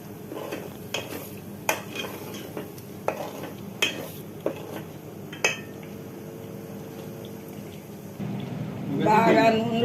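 Mutton curry being stirred in a pot, giving a series of sharp, regular clinks and scrapes of a spoon against metal over a low sizzle, followed by a louder swell of frying near the end.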